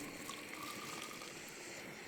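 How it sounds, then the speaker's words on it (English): Boiled water poured into a water bottle at a snowy winter mountain campsite, a steady close liquid gush and trickle running for about two seconds without speech. "And when I pour it into here"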